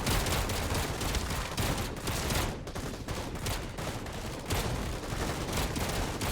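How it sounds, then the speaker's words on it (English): Dozens of units firing weapons together in the real-time strategy game ZeroSpace, a dense, loud, continuous barrage of overlapping gunfire and crackling blasts with brief dips in intensity. "It was fine until 50 units are firing."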